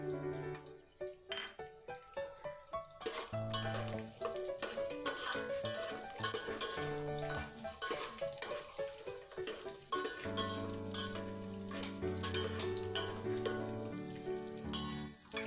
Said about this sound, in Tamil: பச்சை மிளகா வதக்கின அப்புறம் அதில் 1 கப் பூண்டு சேர்த்துக்கணும்.